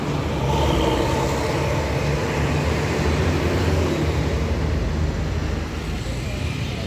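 Rosalia Indah bus number 371 rolls past in a loud, steady roar of engine and road noise that holds for several seconds before easing slightly.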